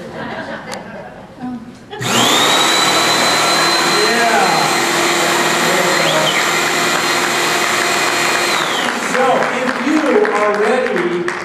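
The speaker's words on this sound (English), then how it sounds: "Sawzall" A Sawzall reciprocating saw roars to life on stage at a keynote address and buzzes steadily for several seconds before cutting off, with an audience laughing and reacting around it.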